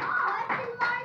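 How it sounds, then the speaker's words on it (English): Second-grade children at a classroom art show clap in a few quick, uneven bursts over about a second, close by, with young voices mixed in. "Alexander, give him a big round of applause"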